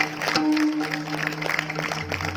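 An audience at a Shivaji birth celebration event claps in a dense, loud, continuous patter, with tonal music or voice held underneath.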